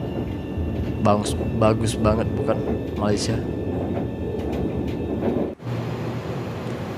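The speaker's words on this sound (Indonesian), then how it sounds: "ini dari dalam LRT" Inside a moving LRT light rail train in Kuala Lumpur, a steady loud rumble of wheels and motor fills the carriage under someone talking, and the noise dips sharply near the end.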